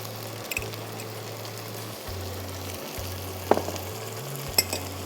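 Spices fry in a pan for a beef curry with turmeric and coriander powder: a steady broadband sizzle runs throughout, joined by a few brief scraping clicks, while a low continuous hum sits underneath and no one speaks.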